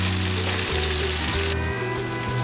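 A steak sizzles loudly in a grill pan, a dense, steady searing hiss that runs unbroken for the whole stretch, close and even with strong low hum beneath it.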